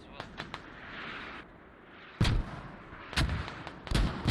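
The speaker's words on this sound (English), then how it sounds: "I think that's the mortars. Yeah, that's the militia mortars there." Militia mortar fire in a tactical shooter game: several distant thumping blasts arriving irregularly, a few sharp ones early on, then louder booms near the end over a low hiss.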